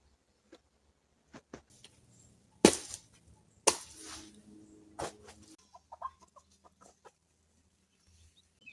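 A large rooster gives a few short, sharp clucks and squawks at close range, mixed with scattered taps and clatter in an otherwise quiet setting.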